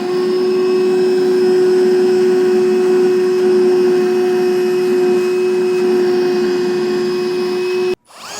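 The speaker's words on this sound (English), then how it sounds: "I like to just vacuum up all the shavings before moving on to the next size" A vacuum cleaner drones loudly and steadily with a high whine as it sucks up fiberglass drill shavings in the bed of a 2019 Ford F-150, then cuts off abruptly near the end before a brief restart.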